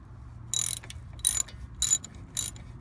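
A ratchet with a 17mm socket loosens brake caliper bolts on a Chevy Trailblazer: four short, crisp clicking bursts at an even pace, close up against a quiet background.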